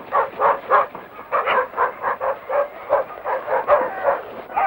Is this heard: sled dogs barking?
yes